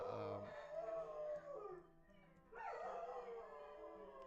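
Close, loud dog howls in two long wavering phrases separated by a brief dip, the second swelling upward, with a faint bark-like onset at the start.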